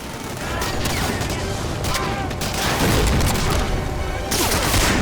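Sustained gunfire and explosions in Medal of Honor Warchest, a dense, loud barrage of rapid shots and booming blasts continuing throughout with no pause, with voices partly audible beneath.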